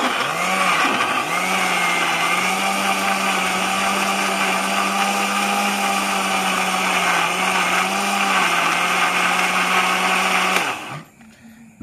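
A blender whirs at a steady, loud pitch while blending a herbal plant mixture, running for about ten seconds before abruptly switching off.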